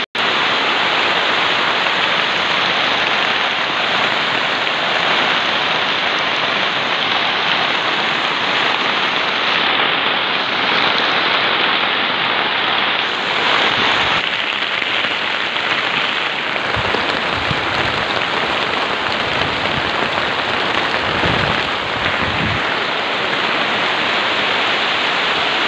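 Heavy rain pours steadily onto a hut beside a river, a loud dense continuous hiss with no break, close and enveloping throughout.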